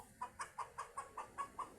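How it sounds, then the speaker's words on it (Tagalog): Hens clucking in a steady series of short, evenly spaced calls, fairly faint, with no talking. "Natawa pa yung mga manok. Nagulat."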